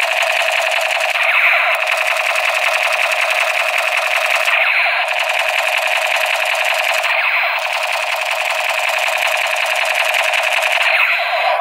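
Nerf M60 roller toy gun firing in a continuous rapid mechanical rattle, loud and close, with a buzzing whir that pulses in short repeating bursts, alone without talk.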